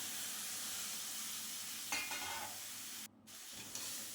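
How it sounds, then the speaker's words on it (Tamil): Snake gourd pieces stirred with masala in hot oil give a steady, close frying sizzle with scraping stir strokes near the middle and a brief dip in the noise toward the end; nobody speaks. "இப்போ அந்த மசாலா படுற மாதிரி நல்லா வந்து கிளறி விட்டுறணும் இந்த எண்ணெயிலேயே கிளறும் பொழுது தான் காய் வந்து சாப்பிட்றதுக்கு நல்லா வந்து டேஸ்ட்டாக இருக்குங்க"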